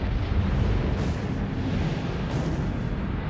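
A supernova sets off a gamma-ray burst as a sound effect: a loud, dense, continuous rumbling roar, with two airy whooshing swells rising over the deep churning low end.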